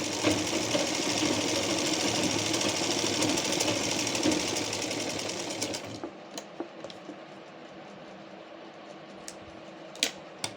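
A sewing machine runs steadily while top-stitching a blouse, giving a fast, continuous mechanical rattle that stops abruptly, followed by faint clicks and handling sounds.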